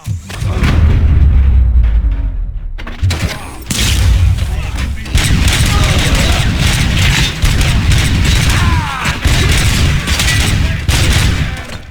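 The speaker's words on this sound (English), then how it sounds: "am I hearing gunshots?" Rapid, sustained gunfire and heavy booming blasts from the Robocop video game keep up a dense barrage for about twelve seconds, with one brief break near the start.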